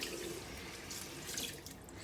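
Warm tap water runs steadily into a sink while a makeup eraser cloth is rinsed under it, a constant close hiss with slight splashy variation and no talking.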